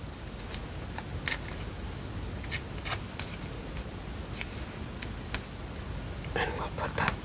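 Masking tape pulled and ripped while a small accordion journal is made by hand, several short crackling tears and bursts close by against a noisy room background.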